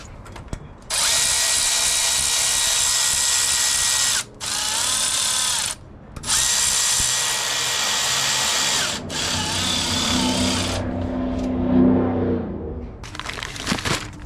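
A power tool whirs loudly in several sustained, high-pitched runs with brief stops between them while Allen head bolts are driven into an engine bracket during a K20A Type R swap into a 1994–2001 Integra, ending in scattered clicks and rattles.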